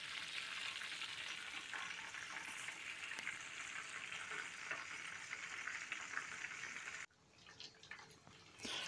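Chicken croquettes frying gently over low heat in a pan, a faint, even crackling sizzle that carries on steadily, then briefly drops away before returning at the end.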